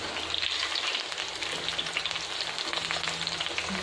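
Aloo chapli kebabs fry in a pan after flipping, a loud, steady, dense oil sizzle with fine crackling spatters that holds without a break.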